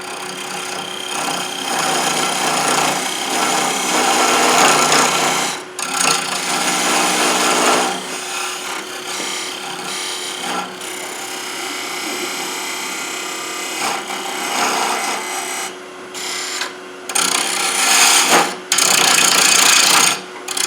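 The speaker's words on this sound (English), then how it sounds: "Get my parting tool again." A wood lathe spins a wooden flask vessel while a parting tool cuts into it, giving a steady, loud scraping rasp that keeps running with brief breaks and shifts in tone, with no one speaking.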